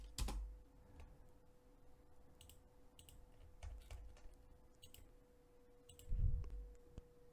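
Typing on a computer keyboard while entering category names in a Cafe24 shop admin, with faint, sparse clicks and a few louder bumps in a quiet room, no talking.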